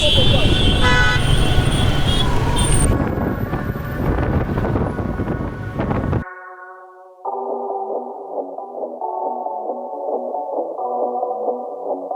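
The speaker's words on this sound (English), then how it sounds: "How crazy is the traffic here is." Busy street traffic in Kinshasa, DR Congo, blares with loud, repeated car horn toots over wind buffeting and road rumble, then gives way to a long, steady horn-like tone.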